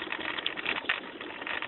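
A 2001 Mazda Protege LX with a 2.0L engine idling while somewhat cold, a steady close rattling hum with a fast, even pulse and no talking.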